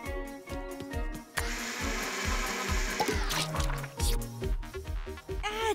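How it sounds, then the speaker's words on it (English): A kitchen blender whirs loudly in a Polly Pocket cartoon, making a smoothie, with rhythmic mechanical pulses and grinding surges that change pitch as it runs, with no talking. "Throw everything in the blender. We'll make a smoothie."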